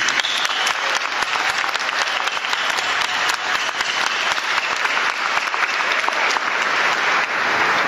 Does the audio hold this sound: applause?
yes